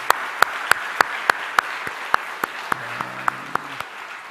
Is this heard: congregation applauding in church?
yes